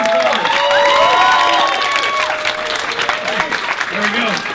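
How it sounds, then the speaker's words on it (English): A convention audience applauds and cheers for guest voice actors, a dense, loud wash of clapping with whoops and shouted voices mixed throughout. "Give them all a big round of applause."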